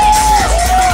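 Wedding guests cheer and whoop together as a loud, continuous crowd roar that fills the short moment.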